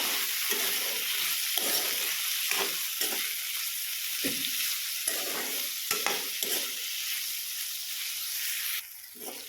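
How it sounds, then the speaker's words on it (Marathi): Thinly sliced tomato sautés in oil, a steady low sizzle running under repeated spoon-scraping stirs that come every second or so, quieting near the end. "उभा चिरून घेतलेला टमॅटो टाकत आहे आता हा टमॅटो देखील छान मऊ होईल तोपर्यंत यामध्ये परतून घ्यायचा"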